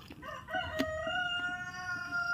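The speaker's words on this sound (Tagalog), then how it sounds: "tilaok na yung mga manok guys" A rooster crows nearby, a single drawn-out call over faint background clucking and farmyard noise.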